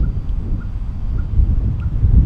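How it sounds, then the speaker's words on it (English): Steady wind rushes and buffets the microphone outdoors, a low rumbling roar that swells slightly in gusts, with no one speaking. "It's rather windy here because we're out in the open"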